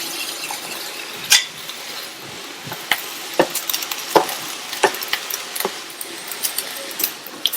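Cooked rice stirred into spiced carrots in a pan for carrot rice, a spoon scraping and clinking against the pan in irregular taps over a soft, faint sizzle.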